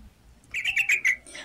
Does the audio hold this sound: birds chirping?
yes